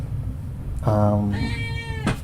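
A cat gives two short meows in quick succession, close and clear over a low background rumble, with a brief click at the end.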